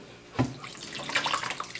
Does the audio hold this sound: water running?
yes